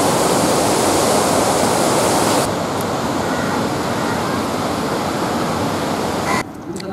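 Water rushes through the open gate of Kejudevi Dam on the Pawna River near Pune, a loud, dense roar that drops slightly partway through and continues with no voices.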